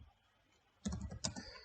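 Quick, close clicking of code being typed on a computer keyboard, a short burst of keystrokes after a near-silent start.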